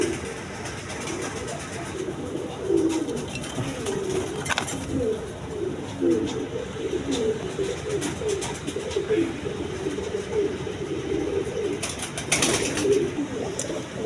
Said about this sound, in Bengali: এগুলো জোড়া জোড়া ডিম বাচ্চা করানো কবুতর, খামারের কবুতর।